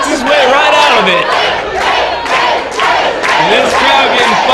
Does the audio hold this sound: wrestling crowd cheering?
yes